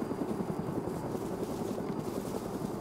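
A helicopter in the DayZ video game gives a steady, rapid rotor thump that continues throughout at moderate distance.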